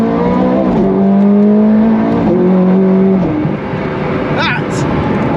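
A Ferrari 430 Scuderia in race mode accelerates hard, its engine pitch climbing through quick gear shifts, with someone talking over the rising roar from inside the car.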